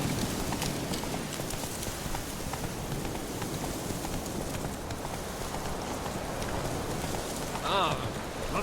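Hooves of Roach, the horse in The Witcher 3 video game, clop in a steady, continuous rhythm at close range, with a brief vocal sound near the end.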